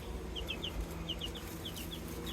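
Young chicks in a newly built backyard chicken coop chirp and cluck in short repeated bursts, fairly close, over a steady low background hum with no talking.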